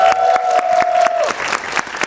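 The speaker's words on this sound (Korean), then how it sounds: "박수 한번 부탁드립니다" An audience claps at a Korean film talk event for the movie 침범, a dense burst of close, loud applause that runs throughout, with a speaking voice trailing off early on.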